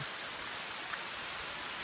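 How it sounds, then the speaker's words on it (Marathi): Rain falls steadily in a Konkan village, a dense, even hiss of drops with no gaps and no other sounds. "चला पावसात भिजण्याचा आनंद घेता येतोय"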